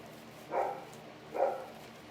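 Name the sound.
dog barking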